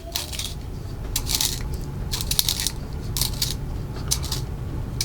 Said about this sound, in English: let me use a blade sharpener to kind of get at it here